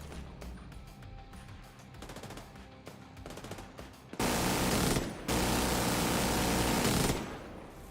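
Heavy gunfire from a big gun in The Division 2, a rapid rattling burst up front followed by two long, loud, continuous roars of sustained automatic fire close by.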